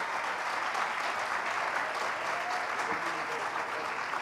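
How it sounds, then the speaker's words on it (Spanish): An audience at an evening history conference applauds a speaker, with sustained, dense clapping at an even level throughout. "Vamos a recibirlo nuevamente con un fuerte aplauso"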